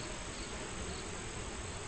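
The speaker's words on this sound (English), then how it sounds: "Bees look very healthy." Honeybees at an open hive hum in a steady, dense drone, close and continuous with no pauses, and no one speaks over it.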